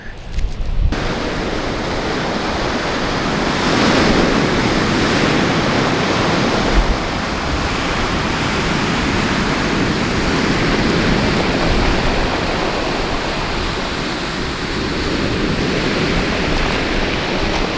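Powerful ocean waves crash continuously onto a beach during strong spring tides, a loud, steady roar of surf filling the whole stretch with broad rushing noise and no voices.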